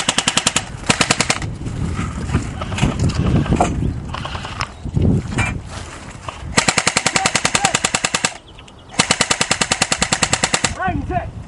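Airsoft guns fire in long, rapid full-auto bursts, loud and near, with short pauses between strings of shots and some voices mixed in.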